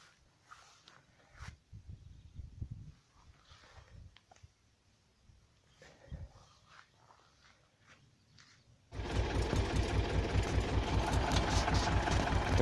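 After a stretch of faint rustling and knocks, a small three-engine motor sprayer for treating potatoes against blight abruptly starts and runs loud and steady with a fast, rattling pulse.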